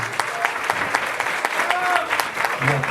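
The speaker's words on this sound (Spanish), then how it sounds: "al licenciado Jorge Zúñiga, para quien pido un caluroso aplauso" Warm applause for an honoree at a university event, close, continuous clapping from a seated audience with individual claps standing out, steady throughout, with a brief voice faintly underneath.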